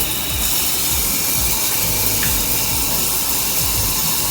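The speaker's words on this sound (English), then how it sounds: "That's a really hard spray, and this is a dribble." A hotel bathroom shower head sprays water in a loud, continuous hiss that runs steadily throughout without pause, close and filling the space, with no voices.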